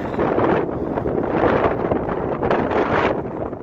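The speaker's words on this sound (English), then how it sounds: "Oh, dude, that wind is whipping." Strong wind gusting and roaring outside an abandoned Super Kmart in Uniontown, PA, a steady, loud broadband rush buffeting the microphone for the whole stretch, with brief dips and surges.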